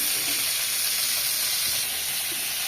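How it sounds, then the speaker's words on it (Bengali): Fish frying in a pan in a village kitchen, a loud, steady hissing sizzle that fills the short moment without any talk. "মাছটা ভেজে নিই"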